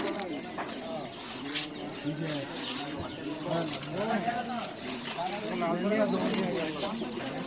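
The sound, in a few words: pigeons at a pigeon market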